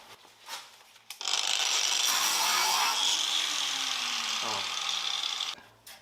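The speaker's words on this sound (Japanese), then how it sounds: "ビーサンダー、あとワイヤーブラシとかペーパーとか、こういうのを使って下地処理やっていきます。" Sustained abrasive grinding of a sander and wire brush stripping rust from the trunk metal of a Mazda RX-7 FD3S under restoration, starting abruptly after a few light taps and running steadily for about four seconds before cutting off.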